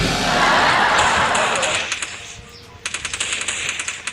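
Gunfire in the mobile shooter Free Fire during a 4v4 match: a loud, dense burst of shooting first, then a rapid train of sharp automatic shots toward the end.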